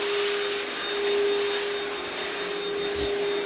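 Vacuum cleaner picking up pet hair in a room, a loud steady whine with a strong constant tone throughout, close and uninterrupted.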